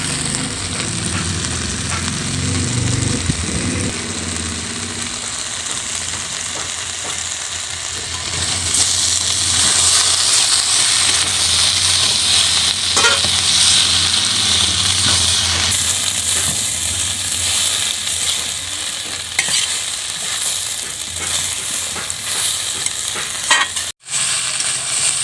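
Soybean curry sautés with Kashmiri chili powder in a pan, giving a continuous close sizzle and frying crackle. Repeated stirring scrapes run through it, and it grows louder and busier after the first few seconds.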